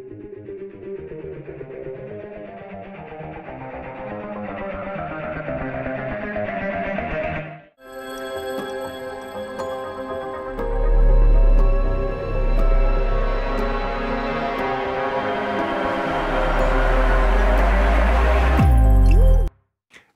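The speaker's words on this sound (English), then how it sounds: "So I actually added just some cello staccatos, and then processed them with, we have a bass amp on there, some overdrive, some strategic EQing." Staccato cello notes run through a bass amp, overdrive and EQ, heard alone as a dense, driving pulse that drops out briefly midway, then returns with heavy low-end booms before cutting off.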